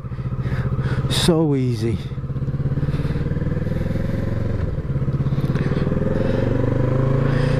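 A Kawasaki Z650 motorcycle engine runs steadily at speed with a loud, buzzing drone and a quick rev change early on, while a rider talks briefly over it.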